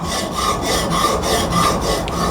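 A knife blade rubbing steadily across a Hapstone 80 grit CBN sharpening stone, a close, continuous gritty rasp with a faint rhythmic pulse of repeated strokes, with no voices.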